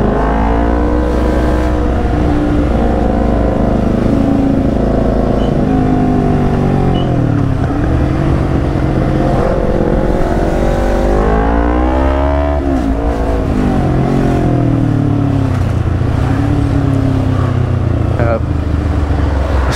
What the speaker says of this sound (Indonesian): R6 ini suaranya bulat banget